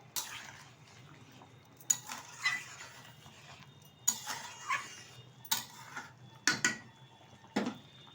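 Spoon scraping and clinking against a metal pot while chicken curry with garam masala powder is stirred, several separate sharp stirring bursts spaced out over quiet simmering.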